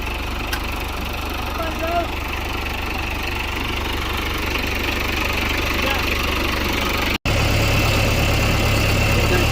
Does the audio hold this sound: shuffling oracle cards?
no